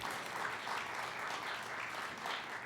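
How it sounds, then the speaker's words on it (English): Audience applauding spelling bee contestants at a school district finals event, a steady, dense clapping that holds evenly throughout at moderate volume with no talk over it. "Once again, a round of applause, please, for all of our great spellers."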